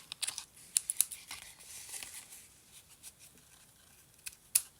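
Scissors snip through cardstock while a handmade card is trimmed, giving a few quiet, crisp cuts with light paper rustling between them.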